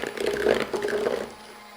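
Electric mixer beating cream cheese, butter and sugar together for low carb chocolate cream cheese pound cake batter, a steady whirring churn that holds for about a second before trailing off.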